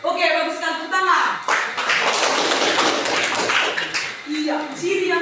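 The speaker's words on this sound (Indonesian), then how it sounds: "Oke, baguskan tepuk tangan." A school class claps for a student's answer, a loud burst of quick hand claps lasting a few seconds between stretches of a teacher's speech.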